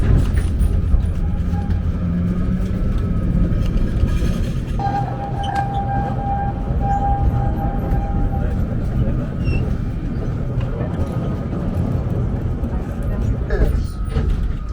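A steady low rumble of a moving train, with continuous rattling and a faint tonal whine, running without pause throughout.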